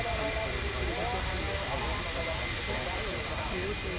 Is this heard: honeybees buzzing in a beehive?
no